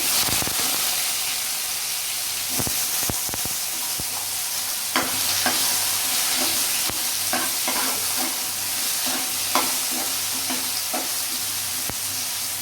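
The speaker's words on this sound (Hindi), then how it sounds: "इसमें मैं सबसे पहले कद्दू को डाल के भून दूंगी" Pumpkin pieces fry in hot oil in a pan, giving a loud, constant hissing sizzle with scattered light clicks and scrapes of a spatula now and then.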